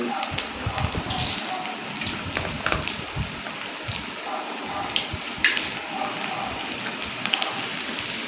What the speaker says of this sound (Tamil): எண்ணெய் நல்லா சூடு பண்ணிவிட்டு கடாயில் சட்டிக்கு ஏற்ற மாதிரி கொஞ்சம் கொஞ்சமாக போட்டு எடுத்துட வேண்டியதான்